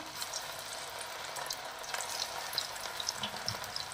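Thin-cut chicken pieces for a Mangalorean ghee roast fry in hot oil, a steady crackling sizzle with scattered bright pops, close and alone without any talk.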